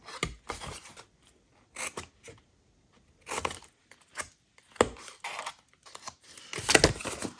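Scissors cutting paper for a Stampin Blends marker box, several short bursts of crisp snipping separated by quiet pauses, close up and alone.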